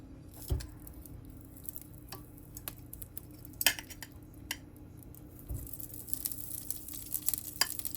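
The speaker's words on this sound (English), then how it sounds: "we have the grill over here, and then we're gonna start like roasting them" Pork spare ribs marinated in mojo criollo on a preheated grill, soft sizzling with scattered clicks and clanks of tongs and utensils, quiet and close, rising slightly near the end.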